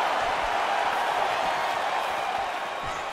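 A large crowd in the fighting game EA Sports UFC 4 roars and cheers in a continuous wash of noise, steady and fairly loud throughout.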